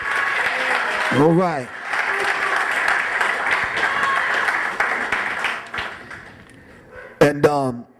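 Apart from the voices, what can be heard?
audience applause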